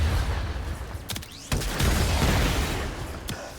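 Aeolac gun alt fire in the video game Warframe, a dense roaring blast of noisy fire with a couple of sharp bangs and whooshing sweeps, loud and sustained throughout.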